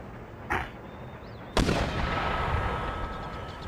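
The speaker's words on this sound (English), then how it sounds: "I would have thought that we'd be out of the arc of fire of these mortars." Mortar artillery fire in the Empire: Total War video game: a short blast, then a louder booming impact followed by a rumbling wash of battle noise.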